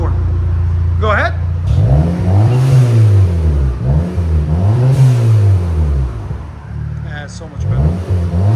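A 2012 Audi TTS with a 2.0L turbo engine and a Vibrant resonator exhaust revs from a deep idle in loud, rising and falling sweeps, two or three pulls with a throaty drone in between, heard up close with people talking.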